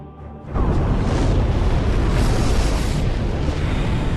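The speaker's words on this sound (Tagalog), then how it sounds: "inihagis ang isang tangke ng gasolina na agad niyang pinaputukan upang pasabugin" A gasoline tank shot by CJ in a zombie movie bursts into a sudden loud explosion after a short quiet moment, then gives way to a sustained roaring rumble.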